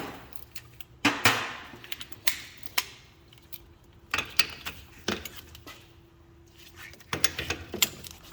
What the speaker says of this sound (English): I'm just going to go around and double check them with a ratchet